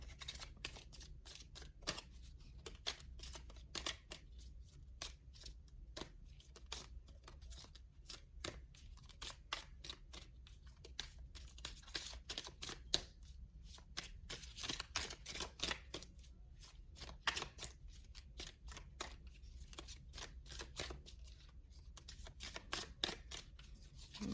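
A deck of tarot cards is shuffled continuously, producing a quiet, rapid stream of crisp flicks and riffles with uneven bursts and brief pauses, close and faint, with no talking.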